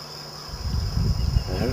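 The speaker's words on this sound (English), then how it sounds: "That's all bees." A swarm of honeybees gathers in a tree at a hunting camp, making a dense, close buzzing hum that swells over the short stretch, with a steady tone running under it and no talk.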